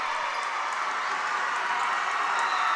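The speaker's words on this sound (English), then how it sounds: "if you hear our crowd going nuts like that, that means number 2, Weston Husky, is about to check in" A home high school basketball crowd in a gym cheers and claps loudly as a player checks in, a steady, continuous roar of voices and applause throughout.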